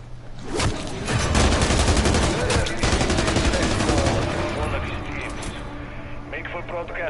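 Rapid assault rifle fire in a zombies shooter, loud sustained bursts of gunshots rolling over several seconds before tapering off, with a voice talking over the racket.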